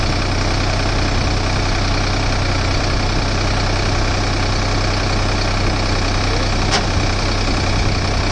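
A Sonalika 745 III tractor engine runs at 1300 RPM, a loud, steady, rough diesel rumble with a constant knocking throb and no talk, continuous throughout.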